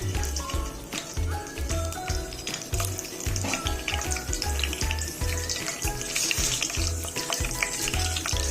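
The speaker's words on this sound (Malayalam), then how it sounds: "എണ്ണ ചൂടായി കഴിഞ്ഞാൽ ഒരു രണ്ട് മൂന്ന് വറ്റൽ മുളക് നമുക്ക് ഇതിലിട്ട് കൊടുക്കാം" Two or three dried red chillies sizzle and crackle in hot oil in a pan, a close, steady frying hiss with small pops and a faint rhythmic stirring or knocking throughout, no talking.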